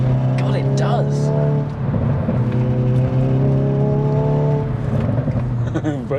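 A Hyundai i20N hot hatch pulling hard in full N mode, its engine note rising and droning loud from inside the cabin, with a gear change midway and people talking over it throughout.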